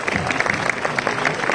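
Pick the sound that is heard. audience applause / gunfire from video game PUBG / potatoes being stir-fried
audience applause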